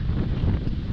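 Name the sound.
strong wind blowing into the microphone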